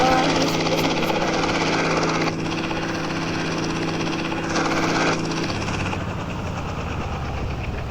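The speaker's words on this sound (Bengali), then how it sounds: "এখন আমি আগে হেলিকপ্টারটা উঠাই" A helicopter in a video game, a loud, steady engine and rotor drone with tonal hum that shifts in pitch and texture as it flies, with no talking over it.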